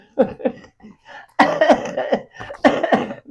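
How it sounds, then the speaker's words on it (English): A loud, close cough: a few short hacks, then two heavier chesty bursts, with no talk. "Nice cough."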